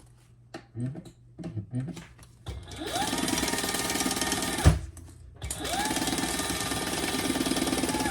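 A domestic sewing machine stitches the exterior seam of a fabric pouch, running in two steady whirring bursts with a short pause and a thump between them, preceded by a few soft handling clicks.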